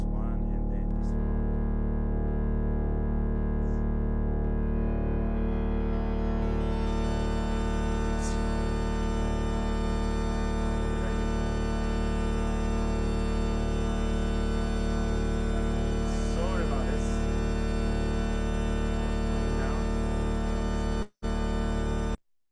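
A dense synthesized chord in the style of the Deep Note, built in a browser with Web Audio, holds as a rich, sustained stack of steady tones. It stays loud for about twenty seconds and then cuts off abruptly, with no talking.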